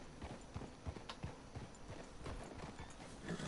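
Horses clip-clopping in the Red Dead Redemption 2 video game, a steady run of hoof clops with an occasional faint whinny over a busy game background.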